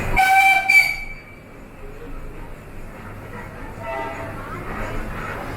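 The Ooty toy train sounds a brief, loud whistle, then rumbles steadily as it starts to move off, with faint voices in the carriage.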